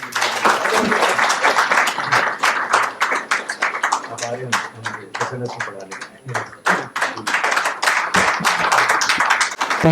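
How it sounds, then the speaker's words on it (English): An audience at an ethics conference session applauds steadily, a dense wash of clapping with talking mixed in. "please give them a big round of applause"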